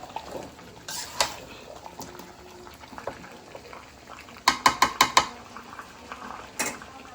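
A ladle stirs a pot of fish curry, scattered scrapes and taps leading to a quick run of five sharp metallic knocks against the rim, then a final clank, close over a faint bubbling background.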